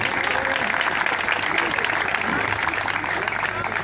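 Audience at an all-India poetry gathering clapping to welcome guests, a dense, steady round of applause from a large crowd filling the whole stretch, close and loud.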